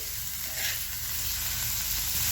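Okra stir-fry ingredients with crushed peanuts and coriander tossed together in a pan, giving a steady, close sizzle with faint scraping underneath, without pause and with no voices.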